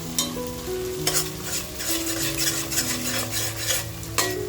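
Masala sautés for a homemade prawn biryani, with a constant sizzle and rhythmic spatula scrapes and clinks against the pan, all under soft background music.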